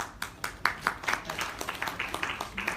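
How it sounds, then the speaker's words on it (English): Seminar audience in a hall gives a round of applause, a quiet, sparse patter of claps with irregular rhythm that settles into a steady light clapping. "Please give a huge round of applause for him."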